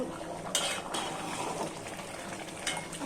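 A spoon stirs spicy beef curry with added water in a covered pot, giving close wet sloshing and scraping with a couple of brief metallic clinks against the pot over a low simmering bubble.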